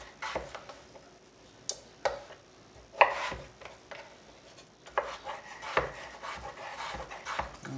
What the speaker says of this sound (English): So this is me cutting up my potatoes.